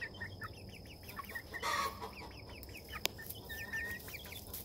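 Backyard chickens, including a rooster with furry feathered feet, cluck softly at a distance in a steady chatter, with a brief rustle and one sharp click.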